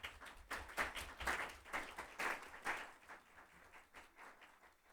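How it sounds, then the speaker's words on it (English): An audience at a school board of education meeting applauds, with a steady wash of clapping that holds at moderate loudness for several seconds and then slowly thins out, heard from a distance with no talking. "Let's give her a big round of applause."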